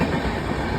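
A train rolls through a railway level crossing, a steady, fairly loud rumble of rail cars passing close by with no talk over it.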